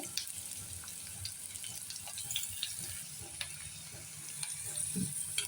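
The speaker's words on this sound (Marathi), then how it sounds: "आता हा कांदा या ठिकाणी चांगला आपण परतून घेऊया" Chopped onion and garlic sautéing in a pan for matki usal: a quiet, continuous sizzle broken by light scraping and tapping from stirring, heard faintly with no talking.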